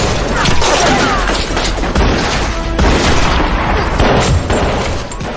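Rapid gunfire in a movie shootout from a gambling-legend film, the shots made by a character imitating them with his mouth, heard as loud, dense bursts and booms that run together almost continuously.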